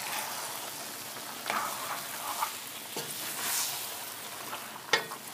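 Sausage sizzling and frying in a pan for shawarma, with a steady crackling hiss and a few scraping stirs and clacks of a utensil, close and moderately loud.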